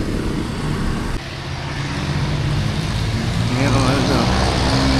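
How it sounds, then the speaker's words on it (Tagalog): Steady dense traffic noise on a Cebu city street with many motorcycles among cars and trucks, engines droning continuously and rising louder toward the end. "Daming doon, mga motorsiklo."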